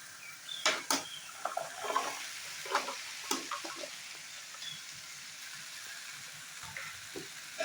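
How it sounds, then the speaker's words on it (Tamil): Okra frying in hot oil with softened tomatoes, a faint steady sizzle broken by scattered scraping and stirring clicks from a spoon in the pan, with no talking. "நல்லா கொஞ்ச நேரம் எண்ணெயிலே வதக்குவோம்"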